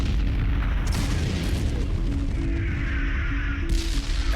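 Heavy artillery bombardment from the Normandy campaign of the Second World War, a dense continuous rumble of deep booming explosions, loud and sustained without clear breaks.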